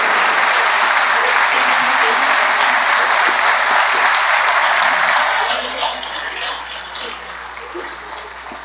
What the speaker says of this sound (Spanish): te enviamos un aplauso